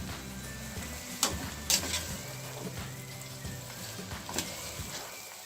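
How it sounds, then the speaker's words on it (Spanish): Cucumbers stewing in a pan give a soft, steady frying sizzle, broken by a few sharp clinks and scrapes of stirring and pouring, nearby and fairly quiet. "vamos a ir vertiendo los pepinos y vamos a ir mezclando"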